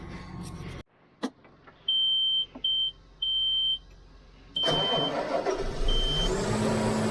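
A series of sharp electronic warning beeps gives way to a tractor engine starting, whose loud, rough running fills the last few seconds close by.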